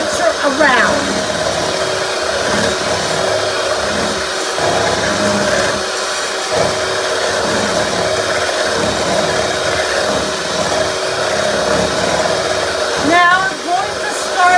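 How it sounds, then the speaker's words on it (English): Electric hand mixer beating a refrigerator dessert mixture in a bowl, a loud continuous whirring motor drone lasting throughout, with a voice talking underneath. "with my left hand, I'm holding the mixer and with my right hand I'm turning the bowl"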